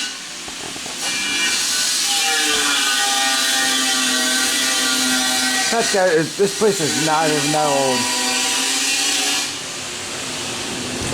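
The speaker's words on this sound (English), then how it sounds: "If you hear that noise in the background, they're doing renovations down there." Power tools from renovation work run in a steady, droning whine at the Hampton Inn hotel in Dandridge, Tennessee. The noise stays in the background throughout while someone talks over it.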